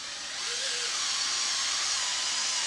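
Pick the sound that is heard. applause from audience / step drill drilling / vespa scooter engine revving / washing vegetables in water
step drill drilling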